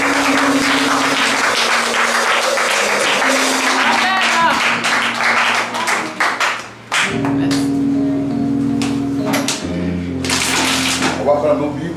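Church congregation clapping in a Sunday service, steady dense applause up close, mixed with voices and sustained keyboard chords, the clapping thinning into scattered claps toward the end.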